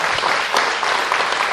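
A church congregation claps together in a dense, sustained burst of applause, close and loud, with no voices standing out.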